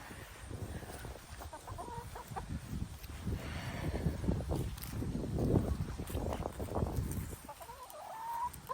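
A runaway chicken clucks in short, scattered calls outdoors, fairly close but soft, amid rustling and handling noise as someone tries to catch it.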